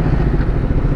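A Yamaha FI motorcycle engine runs with a steady, loud, low rumble for about a second, close to the microphone.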